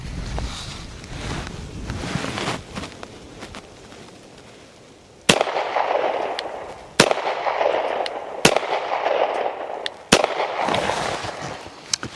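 A Smith & Wesson M&P Shield Plus pistol with a 15-round magazine fires four loud, sharp shots at an outdoor range, spaced one to two seconds apart, with steady wind noise rumbling underneath.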